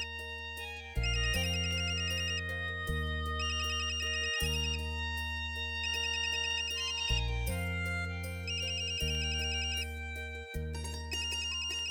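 A mobile phone plays a bright, melodic ringtone that loops steadily and loudly, its synthesized chimes and bass repeating for the whole stretch with no voices.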